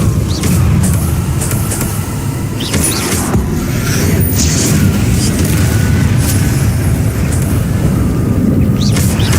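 Spell combat in the game Hogwarts Legacy, with the Incendio fire spell cast amid a dense, continuous roar of booming blasts and bursts, loud and unbroken throughout.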